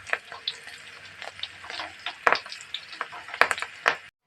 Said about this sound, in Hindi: इसको 5 मिनट उबलने दीजिए, बिल्कुल पान का पत्ता इसके अंदर सूख जाए